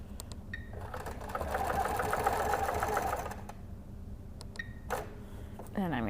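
Sewing machine stitching a quilt along a template ruler, one steady whirring run of about two seconds followed by a few clicks and handling noises, close up.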